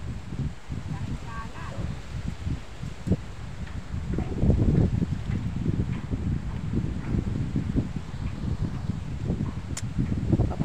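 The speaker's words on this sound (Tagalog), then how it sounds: "Papunta sa atin ang hangin eh." Wind gusts blow across an outdoor fishing spot, a steady rushing roar with rustling and microphone buffeting that swells midway, while people talk in the background.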